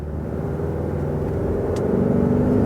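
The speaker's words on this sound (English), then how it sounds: "Now it's revving high." Engine of a 2022 Toyota RAV4 Prime plug-in hybrid with a CVT holds a steady high-rev drone, a low hum and rumble heard from inside the cabin without talk.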